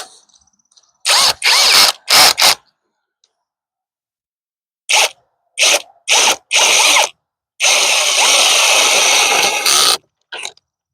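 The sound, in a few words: power drill drilling wood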